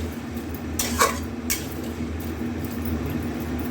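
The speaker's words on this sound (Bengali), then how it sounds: "আর এটাকে ভালো করে নাড়িয়ে চাড়িয়ে ঢেকে দেবো" Chicken curry stirred with spices in a pot: soft scraping and a couple of brief metallic clinks of a spoon against the pot over a low steady background hum, no talking.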